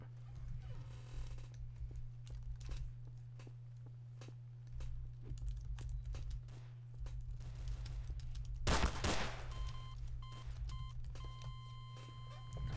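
Gunfire in the video game Garry's Mod cracks through game audio as scattered sharp reports and a dense burst of shots, with clopping footsteps and a steady electronic hum throughout.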